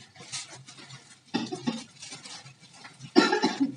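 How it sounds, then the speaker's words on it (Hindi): A person coughs twice, with harsh, close bursts separated by a short pause and softer breathy sounds in between. "खांसी आ रही थी"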